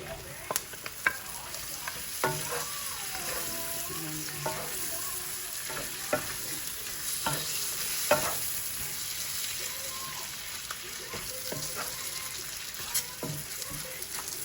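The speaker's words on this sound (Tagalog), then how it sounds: "palutuin muna natin yung ating onion" Onion and oxtail fry in a pan, a steady close sizzle broken by repeated clinks and scrapes of stirring, with no voices.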